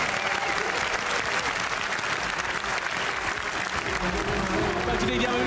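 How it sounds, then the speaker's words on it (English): Steady, continuous applause from a large crowd at the Gran Turismo World Series 2024 World Finals, a dense wash of clapping that holds evenly for the whole stretch with no gaps. "Let's give a big round of applause."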